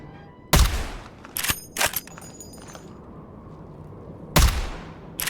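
Gunshots in a survival video game: three sharp, loud reports spaced seconds apart, the first and last heavy and booming, with quieter clicks and mechanical clatter between them.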